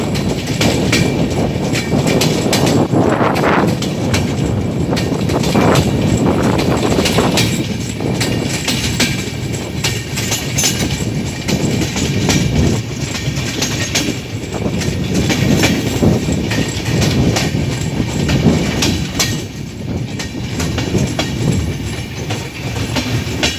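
A passenger train runs from Rajshahi toward Natore in Bangladesh, heard from on board as a loud, steady rumble with rhythmic clickety-clack of the wheels on the rails, continuous throughout.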